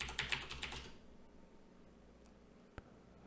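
A brief burst of soft keystrokes on a computer keyboard while a wallet address is entered, fading into quiet room noise with a single sharp click near the end.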